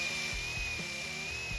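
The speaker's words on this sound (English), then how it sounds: "Now I'm pre-drilling. I don't want to take any chances of anything splitting." Power drill pre-drilling holes in 6x6 wooden posts, a faint steady whine with soft repeated low thumps as the bit bites the wood, no talk.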